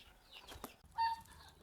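A few short clucks from chickens, close by, with scattered faint background noise and no talking.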